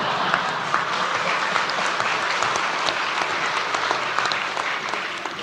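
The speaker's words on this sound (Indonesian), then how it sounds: "Tolong kalau tepuk tangan jangan ragu-ragu ya." An audience applauding during a speech by Indonesia's fifth president, thick continuous clapping that stays loud and steady throughout, easing slightly at the end, with no speech over it.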